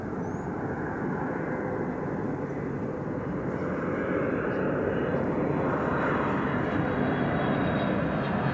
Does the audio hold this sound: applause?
no